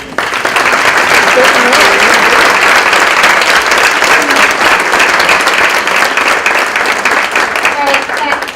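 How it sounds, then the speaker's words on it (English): A Chamber of Commerce breakfast audience gives a round of applause for the candidates, a loud, steady wash of many hands clapping that holds for about eight seconds without a break. "Please join me in a round of applause for these."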